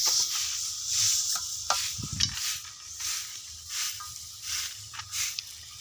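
Jaggery stirred in a pan while making chikki, giving a soft scraping, stirring sound with faint sizzle, fairly quiet and steady with a few sharper knocks.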